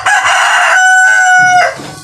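A chicken gives a loud, close, drawn-out call, rising then falling, over a couple of seconds with no speech.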